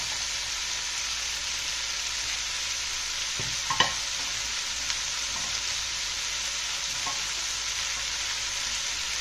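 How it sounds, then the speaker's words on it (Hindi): Vegetables stir-fried over high flame in a hot pan for Chinese plum prawns, giving a steady close sizzle with a few sharp scrapes and clatters of the utensil midway. "इसमें डालेंगे हम बाकी के वेजी।"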